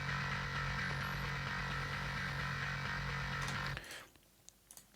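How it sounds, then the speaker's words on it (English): A distorted bass guitar on its own through a dirty channel, with EQ ahead of the amp, plays a sustained gritty low drone for almost four seconds before cutting off into a faint tail and a few small clicks. "So the bass dirty channel by itself sounds like this."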